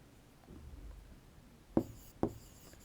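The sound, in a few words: writing notes by hand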